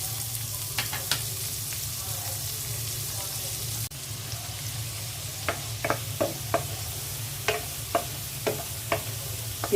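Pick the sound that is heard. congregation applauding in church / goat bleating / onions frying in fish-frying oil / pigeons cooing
onions frying in fish-frying oil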